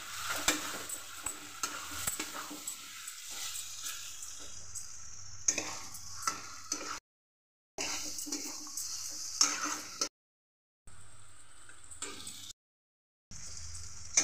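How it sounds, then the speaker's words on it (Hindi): Chickpeas frying in ghee while being stirred in a pan for chhole, a steady sizzle with scraping stir strokes, close and moderately loud, broken by a few brief silent gaps. "दो चम्मच घी डाल देंगे इसे मिक्स कर लेंगे अच्छी तरह से"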